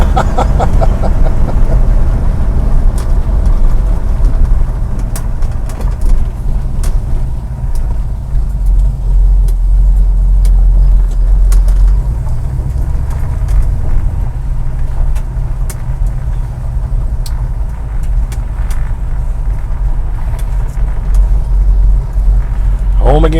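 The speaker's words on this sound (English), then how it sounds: "It doesn't take long to hit 80 miles an hour in a car with a 270 gear." Engine of a 1973 Dodge Dart Swinger with a 2.70 rear gear heard from inside the car, a loud continuous low rumble and road roar accelerating toward 80 mph, with a voice talking over it.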